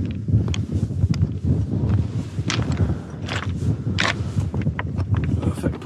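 Wind gusting across an exposed Lake District mountain route near Scafell and Great Gable, a steady buffeting roar with rumbling microphone noise and a few brief bursts, close and fairly loud throughout.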